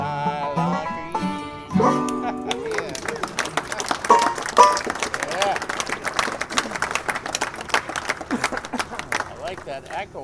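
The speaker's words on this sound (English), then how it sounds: "I like that echo of that applause off the back" Applause in a hall after a banjo performance, clapping rising after the music ends and ringing with echo off the back of the room, with crowd chatter and a voice speaking briefly over it.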